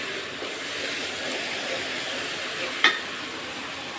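Onions frying in a pan until golden brown like a fried onion garnish, a soft, steady background sizzle with one brief clink near the end, no talking.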